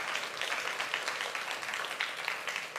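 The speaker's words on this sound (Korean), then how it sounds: "박수 한번 더 하십시오." A church congregation claps for its worship team, giving a steady, dense round of applause from many hands at moderate loudness, without voices rising over it.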